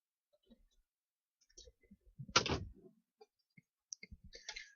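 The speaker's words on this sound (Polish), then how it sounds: "możemy to sprawdzić wyciągając kluczyk ze stacyjki. Powinien się odezwać zamek." Inside a car, the central door locks actuate after the key is pulled from the ignition, a short mechanical clunk amid a few faint, sparse clicks in a quiet cabin.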